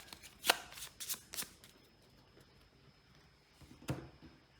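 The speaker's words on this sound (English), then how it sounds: "shuffle all the cards you've revealed from the Mythos deck and shuffle them all back together to create a new pile" Cards from the Mythos deck of the board game Cthulhu: Death May Die are shuffled close by in a few short, crisp riffling bursts separated by quiet pauses, with one last flutter near the end and no talking.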